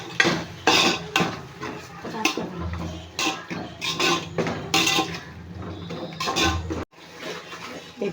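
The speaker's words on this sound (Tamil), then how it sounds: "இது கொஞ்சம் எண்ணெயிலே கொஞ்சம் நேரம் வதங்கட்டும்." Mutton biryani masala sautéing in oil in a pan, with repeated metal clinks and scrapes of a utensil against the pan over a soft steady sizzle, close and fairly loud, in short irregular bursts.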